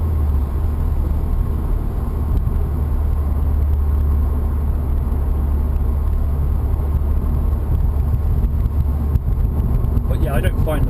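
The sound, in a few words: 2016 Subaru WRX engine while driving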